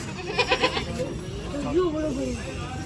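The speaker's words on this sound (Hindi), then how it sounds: "छोटा बकरा और वो आ गया बड़ा बकरा।" Goats bleat near a weighing scale at a livestock market, a few short cries close by amid background noise and a voice.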